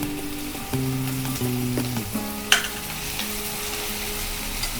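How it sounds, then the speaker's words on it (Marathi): Chopped fresh tomato hits a hot pan for Kolhapuri sprouted matki usal, setting off a steady close sizzle and frying hiss with stirring scrapes and a sharp clatter midway. "आपण आता टोमॅटो टाकून घेऊ।"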